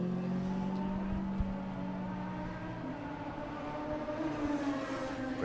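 Bike-engined Formula 3 race car at a circuit passing by along the main straight, a loud sustained engine drone with shifting harmonic tones as it approaches and recedes, steady throughout without speech.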